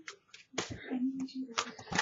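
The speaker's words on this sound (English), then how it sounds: "Just give me one moment while I'm shuffling these." A deck of tarot cards being shuffled by hand, giving quick papery riffles and soft clicks in bursts, with a voice talking over much of it.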